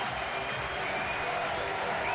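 Stadium crowd at a 2010 St Helens versus Castleford rugby league match applauds from the stands, a dense, steady roar of clapping throughout, with a commentator's voice over it.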